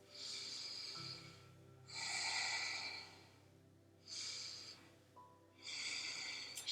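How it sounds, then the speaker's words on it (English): Slow, audible yoga breaths taken while holding high plank: two drawn-out inhale-exhale cycles with soft, airy rushes, close and quiet, and a calm voice faintly underneath. "Take 2 breaths."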